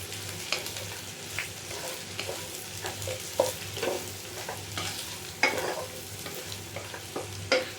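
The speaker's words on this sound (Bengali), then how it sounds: "সয়াবিনটা ভেজে নিই, পরে মশলা দিব। সুন্দর করে ভেজে নিব।" Soybean chunks fry steadily in a pan, a continuous sizzle broken by frequent scraping stirs and a few sharper clinks of a utensil against the pan, close and moderately loud with no talking.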